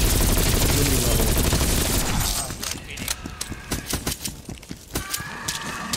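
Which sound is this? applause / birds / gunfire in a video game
gunfire in a video game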